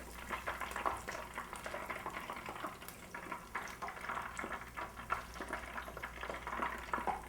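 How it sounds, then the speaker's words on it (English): Soft, steady sizzling with scattered small pops and crackles as tempura fries in hot oil, fairly quiet and continuous. "As the water evaporates inside the oil, that's what makes the popping noise."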